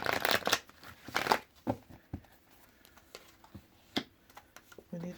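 Tarot cards riffled and shuffled in a few quick bursts, followed by scattered soft taps and handling sounds, close by and fairly quiet.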